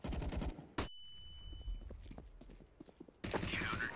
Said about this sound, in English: Flashbang!